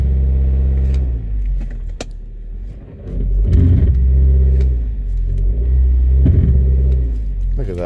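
A 2006 Volkswagen Passat 2.0T being brake torqued, engine rumbling at idle then rising into a sustained rev, with a few sharp clicks scattered throughout.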